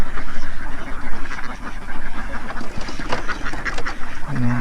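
A large flock of ducks on a Philippine duck farm raised for balut eggs, quacking loud and close in a dense, continuous chorus with a faint voice briefly underneath.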